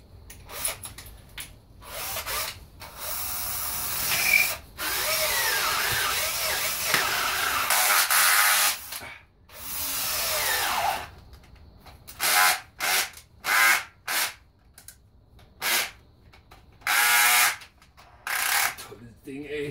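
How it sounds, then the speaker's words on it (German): A large power drill whirs in long bursts, then in short repeated spurts with pauses, loud and close with some handling noise, while reinforcing a greenhouse. "Ich habe ja noch einen größeren Bohrer mitgebracht."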